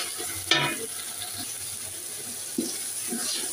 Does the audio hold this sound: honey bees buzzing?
no